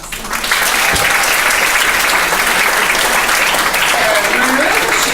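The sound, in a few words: applause at a graduation ceremony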